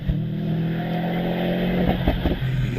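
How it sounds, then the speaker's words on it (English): A race car climbs the Prescott hill climb course, its engine holding a steady, fairly close drone that rises slightly in pitch before easing off near the end. "we continue to watch James putting in what looks like quite a good time so far as he goes around"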